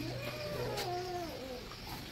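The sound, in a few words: cat meowing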